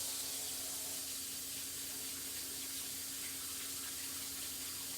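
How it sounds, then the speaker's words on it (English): Water runs steadily from a tap as hands are washed, giving an even, close hiss and splash that stays constant throughout with no talking. "I'm just going to wash my hands here real quick"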